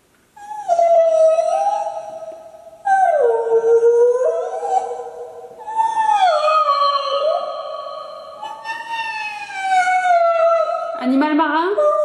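A person's voice imitates a whale call in a series of long, wavering moans that glide up and down in pitch, loud and close, ending with a rising squeal.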